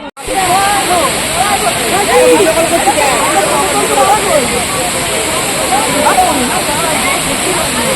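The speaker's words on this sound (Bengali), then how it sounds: "এই যে ঝর্ণার জলটা আসছে।" Waterfall water flowing in the Ayodhya hills of Purulia, a steady, loud rushing hiss that fills the whole stretch while people talk over it.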